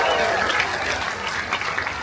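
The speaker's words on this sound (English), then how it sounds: "can I get a big round of applause for all 6 of your fellow guests?" Cruise ship guests at Coco Cay give a round of applause for six fellow game contestants, a continuous wash of clapping that holds steady at a moderate level.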